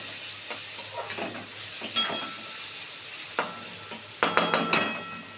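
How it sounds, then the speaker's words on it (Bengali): Potatoes sizzling in hot oil in a pan, a steady close fry punctuated by sharp spatula scrapes and knocks, ending in a quick run of stirring strokes. "একটু ভাজা ভাজা হোক বন্ধুরা আলুগুলো অলরেডি ভাজা হয়ে গেছে ভালোভাবে"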